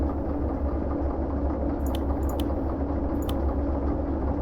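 Diesel locomotive in the Derail Valley train simulator idling with a steady low rumble that fills the background throughout, joined by a few faint metallic clicks partway through.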